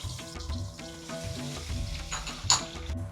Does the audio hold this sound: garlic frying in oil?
yes